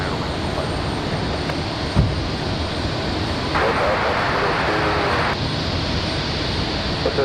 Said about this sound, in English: Air Canada and the A320 over here.